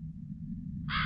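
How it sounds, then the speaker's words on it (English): A crow caw sound effect coded in Sonic Pi, heard as a single harsh caw near the end, over a steady low hum, fairly soft as if distant. "It sounds like the crows are far away."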